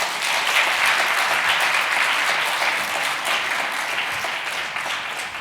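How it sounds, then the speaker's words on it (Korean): A congregation at a Friday evening church service applauds with a full, sustained roar of many hands clapping that stays steady and even from start to finish. "이걸 보면 박수하겠습니다."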